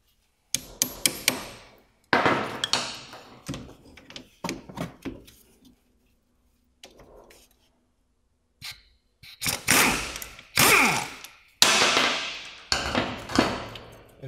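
A 13 mm bolt holding the caliper hose bracket on a Peugeot/Citroen is worked loose, giving close, sharp metallic clanks and ratchet clicks in quick bursts, a short pause, then louder rapid tool rattling.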